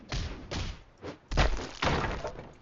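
Down slam attack impacts in Roblox Sorcerer Battlegrounds: a series of heavy thuds and crunching hits, about five in quick irregular succession, close and punchy, with no talk.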